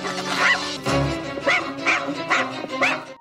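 A small dog made from a balloon barks in the film Killer Klowns from Outer Space, giving a string of four or five high, yappy barks in an even rhythm, fairly close and clear.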